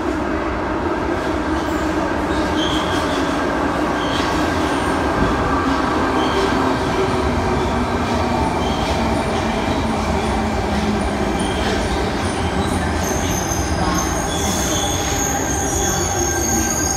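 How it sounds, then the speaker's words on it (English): A Sydney Trains Tangara set pulls into platform 11 at Redfern Station, its wheels squealing steadily over a continuous rail rumble for about seventeen seconds, loud and close, with no voices. "All stations to Bondi Junction service arriving into platform 11. Undoubtedly, it'll be a Tangara."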